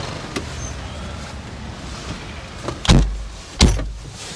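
Two solid car door thuds land close together about a second apart as someone climbs into a Ford StreetKa convertible, each sharp and near, over a steady low engine or road rumble with no one speaking.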